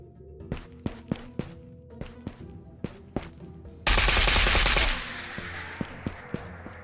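Gunfire in the video game Ghost of Tabor: a run of separate sharp shots, then a dense one-second burst of rapid automatic fire, followed by a few more scattered shots, all fairly close and with no talking.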